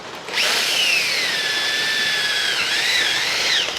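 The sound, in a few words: drill making a hole in an oil filter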